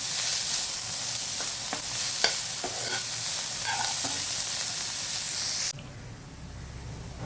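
Chopped onions sauté in a pan while a spatula stirs them, a continuous loud sizzle broken by several scraping strokes before the frying noise cuts away abruptly near the end.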